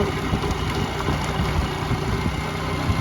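Motorbike engine droning steadily while riding along a village road, a continuous low rumble at constant speed with no voices over it.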